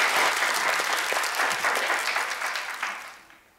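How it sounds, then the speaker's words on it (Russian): An audience at a televised running game show applauds a girls' team, with loud, dense clapping that thins and fades out toward the end. "аплодисменты нашим девушкам"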